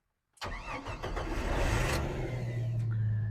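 Jeep Wrangler YJ engine cranking briefly then catching and settling into a steady rough running idle, close and loud after a moment of silence.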